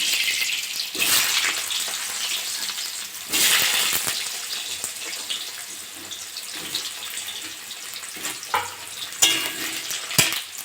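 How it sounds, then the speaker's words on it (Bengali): Potatoes frying in hot mustard oil in a pan, a loud steady sizzle with bursts of crackle and stirring scrapes, heard alone without talk. "তেলটা গরম হয়ে গেছে আলুগুলো ভেজে নেবো"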